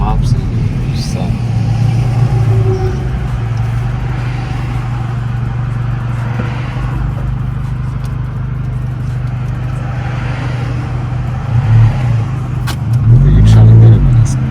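A 2019 Honda Civic Sport with a K20C2 engine and AEM air intake rumbles steadily as it is floored on a highway, with a louder rev swelling near the end; a voice speaks over the engine noise.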